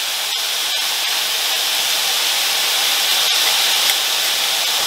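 Minced meat cooking in a pan gives a steady, close sizzling hiss that runs unbroken for several seconds, with a few faint clicks and no talking.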